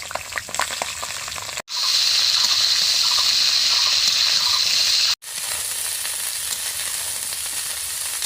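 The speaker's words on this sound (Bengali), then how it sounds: "তেলের মধ্যে দিয়ে দেবো আর এই ফুলকপিগুলো ভেজে নেব।" Cauliflower pieces fry in white oil in a wok, giving a loud, steady sizzle that runs unbroken for several seconds, with two brief cut-outs in the sound.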